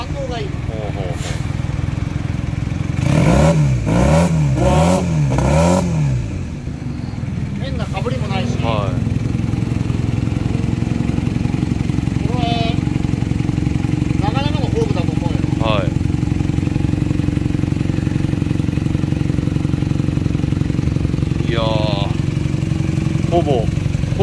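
An old Honda motorcycle engine idles steadily with a few sharp throttle revs early on. Voices talk over it now and then, close by.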